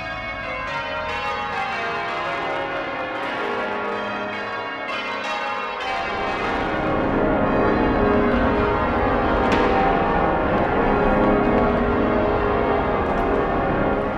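A heavy ring of church bells peals continuously and loudly, the overlapping tones growing fuller partway through and then sustaining without pause.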